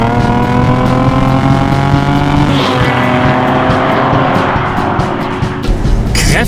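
A Mercedes SL350's 3.5-litre V6 pulls hard under acceleration with a loud, brassy, trumpet-like engine note that rises steadily and shifts partway through, followed by a brief burst of noise near the end.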